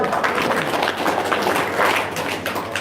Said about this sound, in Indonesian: Sep, tepuk tangan dong.